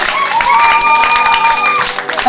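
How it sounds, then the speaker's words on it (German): A congregation at a church service claps together in quick rhythmic bursts, loud and close, while a sustained voice carries over the applause. "Klatschen wir für diesen Herrn."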